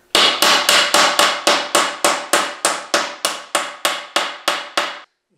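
Steel bushings are hammered into a wooden dining table leaf with a regular series of about fourteen sharp, ringing blows, loud and close, each decaying quickly before the next strike.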